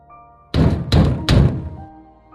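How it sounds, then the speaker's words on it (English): A front door crashing in as it gives way: three loud, heavy thuds in quick succession, close and booming, with no voices. "a loud, definitive crash from the front door. It had given way."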